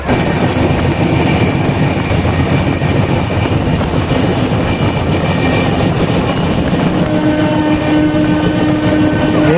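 A local passenger train runs on the Howrah to Puri line in India, a loud, steady rumble of wheels and carriages with rhythmic clatter and a horn sounding faintly, continuous throughout with no talk.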